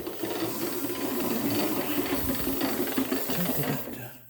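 Hand-cranked stuffer pushing ground meat for snack sticks: a close, quiet mechanical whir with a faint gear-like ratcheting hum runs steadily for a few seconds before trailing off.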